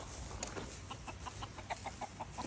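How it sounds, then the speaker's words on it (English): Chickens cluck softly on a spring homestead, a run of short, fairly faint clucks in an uneven rhythm with no talking. "We still got a bunch of chickens."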